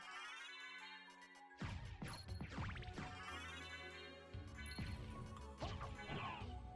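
In a Castlevania randomizer run, the wing smash attack sounds as a series of sharp whooshing, crashing game effects, repeated several times in bursts over tonal background game music.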